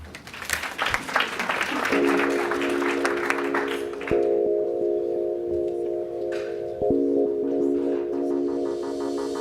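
Audience applause welcomes a speaker at a business forum. It is a brief burst of clapping for about four seconds, then dies away into a steady electronic hum.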